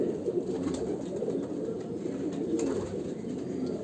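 Domestic pigeons in a rooftop loft cooing steadily and close by, a dense, continuous murmur of overlapping coos from several birds with no talk.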